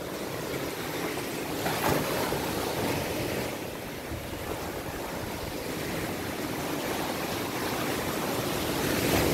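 Ocean waves wash over a sandy beach in a broad, continuous surf roar mixed with wind buffeting the microphone, swelling slightly at times and rising again toward the end.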